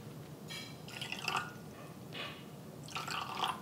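Water trickles and drips in short bursts into a small bowl of hoisin sauce, soy sauce and sesame oil, three brief pours, quiet and close.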